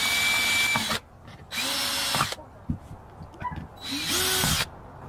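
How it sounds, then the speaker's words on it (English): A power drill bores holes from the inside of a dual-band vertical dipole antenna, in three loud bursts separated by short pauses filled with clicks and handling knocks. "Then we'll drill the other three holes from the inside."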